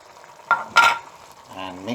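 Mutton liver frying in a pan as garam masala is stirred in, giving two quick scraping stirs over a soft sizzle, with a brief voice near the end.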